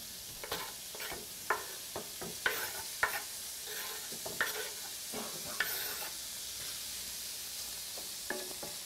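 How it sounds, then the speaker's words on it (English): Bacon sizzles in a small drop of olive oil in a pan on low heat: a steady, crackling fry with scattered pops and light stirring clicks, close and continuous. "Pop in the bacon just to start browning off."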